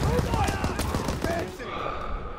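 Gunfire from a Call of Duty WW2 battle, dense overlapping shots in rapid bursts throughout, with shouting voices over the top and a drop to quieter rattling near the end.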